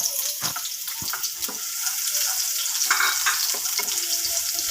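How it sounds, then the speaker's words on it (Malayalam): Steady crackling sizzle of shallots frying in hot coconut oil, close up, with occasional stirring clinks and no voices. "നമുക്ക് ചെറിയ ഉള്ളി ഇട്ട് കൊടുക്കാം കേട്ടോ"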